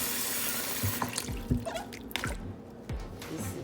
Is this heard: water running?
yes